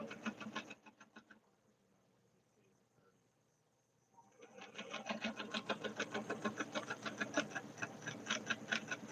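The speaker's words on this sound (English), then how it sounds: "I'm sewing up to the point, then stitching across the point, and then stitching back down." A home sewing machine stitches a shirtdress point in a late-night session, running in a quick mechanical burst, pausing for a few seconds, then whirring steadily again with a rapid even needle rhythm, close and fairly loud.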